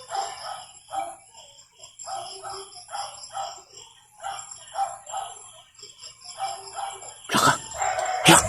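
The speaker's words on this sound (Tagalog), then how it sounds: "nagtatahulan na yung mga aso" Dogs bark repeatedly in the distance in a rural hillside setting, clustered bursts spread through the clip over crickets and faint birds, ending with a loud close clatter and noise.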